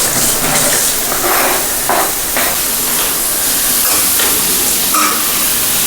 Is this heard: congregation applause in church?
no